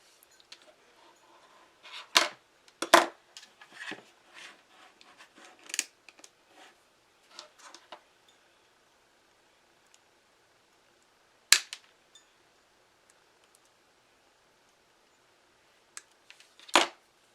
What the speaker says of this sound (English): I can trim off these stems a little bit.